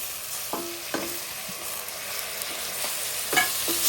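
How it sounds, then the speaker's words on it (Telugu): Chopped tomato pieces go into a hot frying pan for a drumstick tomato curry, with a close sizzle and intermittent clinks and scrapes of a spoon stirring them in. "ఇప్పుడు మనం కట్ చేసి పెట్టుకున్న టమాటా ముక్కల్ని ఇందులో వేసుకోవాలి"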